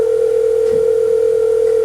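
A telephone in a movie sounds a loud, steady electronic tone that holds unbroken from start to finish, close and alone.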